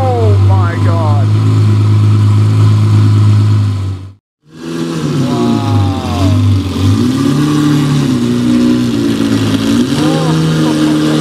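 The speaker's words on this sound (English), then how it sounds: "Start up on the straight pipe Mercy, 770 horsepower." A straight-piped 770-horsepower Mercedes SL65 AMG Black Series starts up close and loud. The engine roars, cuts out briefly, then rumbles and revs again in rising and falling pulls.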